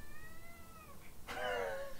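Domestic cat meowing indoors, a drawn-out tonal meow that slides downward, followed after a brief pause by a louder, harsher meow, close to the microphone over a quiet room background.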